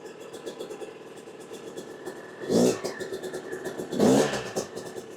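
A 2006 Yamaha YZ250 dirt bike engine idling with a rapid rattling pulse, then rising in two short, loud revs close by.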